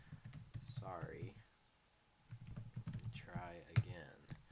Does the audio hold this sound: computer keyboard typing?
yes